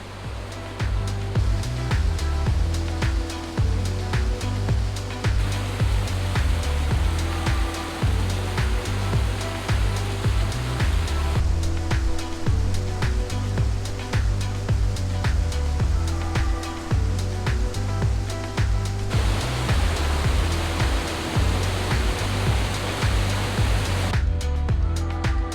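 Waterfalls at Plitvice Lakes rushing beneath a wooden boardwalk, a constant loud wash of falling water with a low, pulsing undertone throughout, no voices.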